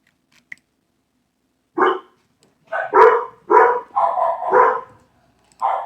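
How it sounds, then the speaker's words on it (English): Dogs bark in a rapid volley of sharp, loud barks, some overlapping, with brief pauses between bursts and one last bark at the end. "And there goes the dogs."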